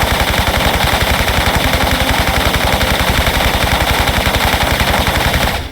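An MP5 submachine gun fires in Tomb Raider III Remastered as one unbroken, rapid automatic burst, loud and close, with evenly spaced shots running the full length before cutting off at the end.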